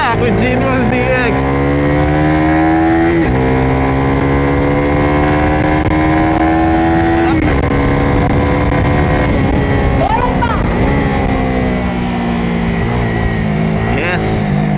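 A 2026 Suzuki Raider R150 underbone motorcycle screams at high revs on Carmona Race Track, rising through gears with brief drops between shifts, loud and sustained as it runs at speed.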